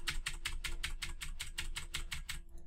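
Rapid, evenly spaced keystrokes hammer a computer keyboard at close range, about a dozen sharp clacks in steady rhythm with a faint hum underneath and no voices.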